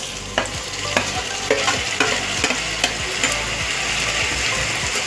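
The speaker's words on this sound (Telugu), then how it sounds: "ఇలా కొంచెం బాగా వేగిన తర్వాత టమాటాలు వేసుకోండి ఫ్రెండ్స్" Tomatoes are stirred into frying onions in a pan: a loud, close sizzle under repeated rhythmic scraping strokes of a spoon, roughly two per second, with no voices.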